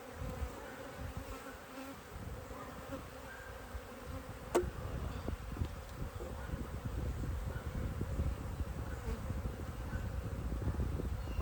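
Honey bees buzz steadily around an open hive on a farm during a Demaree split, a dense continuous drone that grows slightly fuller over time, with a single brief click partway through.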